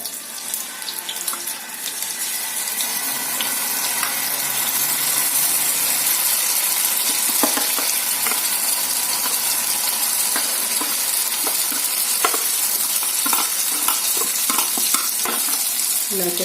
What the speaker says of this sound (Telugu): బ్యాటర్ అయితే వేసేస్తున్నాం ఫ్రెండ్స్.